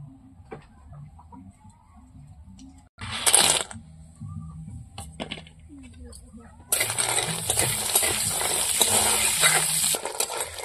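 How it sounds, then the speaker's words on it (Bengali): Lentil dumplings fry in oil, sizzling loudly and steadily in a pan for the last few seconds, after quieter kitchen clatter and a brief burst of frying noise earlier. "এবার বড়িগুলো ভেজে নেব।"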